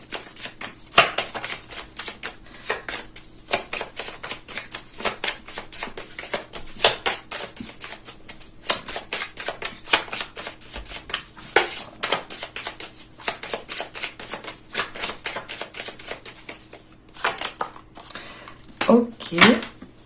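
Tarot cards are shuffled and laid out in a rapid, uneven run of crisp clicks and snaps throughout, with a voice briefly heard near the end.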